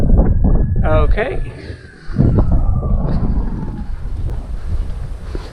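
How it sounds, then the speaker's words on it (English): Strong gusty wind buffeting the microphone on a lakeside trail by Hamilton Lake, a steady roar with a brief lull midway, while a person speaks briefly over it. "you can see it's a bit windy"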